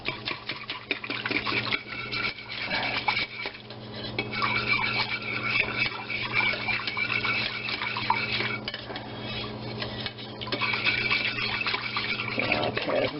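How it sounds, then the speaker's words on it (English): A whisk beats a seasoning mixture for coq au vin in a bowl with a fast, steady metallic scraping and clatter, close and continuous, with short pauses along the way. "we are going to whisk it together until it's smooth"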